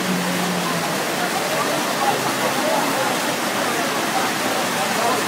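Floodwater after heavy rain, strong enough to sweep away cars, rushes in a loud, constant roar throughout, and voices can be heard over it.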